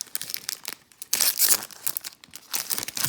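A Pokémon trading card from a Shining Fates pack being torn up by hand, with bursts of close, loud crinkling and ripping across a few seconds.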